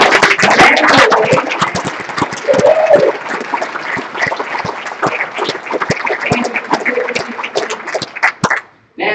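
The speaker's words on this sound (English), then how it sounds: "Clap your hands." A standing audience at a procurement association's chapter meeting in Utah claps together, giving nine seconds of loud, crisp applause with many sharp individual claps. Faint voices sit under it before it drops off abruptly at the end.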